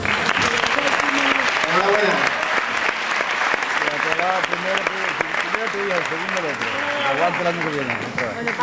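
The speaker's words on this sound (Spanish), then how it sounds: "Un aplauso." Sustained applause from an audience at a provincial contest award ceremony, loud and dense throughout, with a voice speaking over the clapping.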